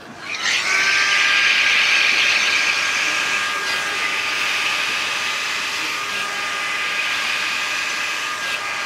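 A Panasonic EH-KN97 rotating curl hair dryer blows warm air with a loud, steady whine that starts abruptly and holds on with a faint tonal hum, close and continuous, no voices.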